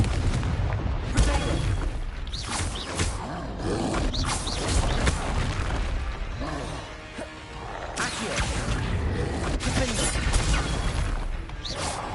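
Fiery explosion spells in Hogwarts Legacy, heavy booming blasts and crashing bursts that recur across a dense, loud battle mix, with roaring creature sounds and a brief lull before the bursts resume.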